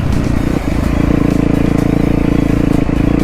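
A motorcycle, maybe a dirt bike, rides over rough ground, its engine running loud and steady while the frame rattles and clatters throughout.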